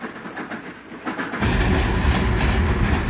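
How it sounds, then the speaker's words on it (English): A scheduled southbound Central Vermont passenger train at Willimantic rolls past on the rails with a loud, steady rumble and rhythmic clickety-clack that swells into a heavy roar as it passes. "a scheduled passenger train arrives"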